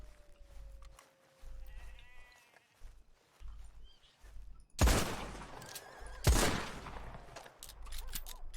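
Two loud, sharp gunshots from a video game ring out a second and a half apart, fired into a bush, with lingering tails between them over a low background hum.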